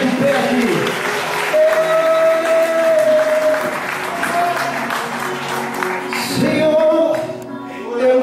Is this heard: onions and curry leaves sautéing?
no